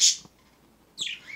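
Pet birds chirp indoors in two short, bright bursts separated by a brief quiet gap, close and fairly loud.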